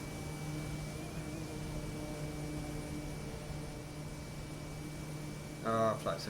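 Aircraft engine in a flight simulator game on a flight descending near La Palma in the Canary Islands, a steady droning hum with a constant whine, and a voice briefly speaks near the end.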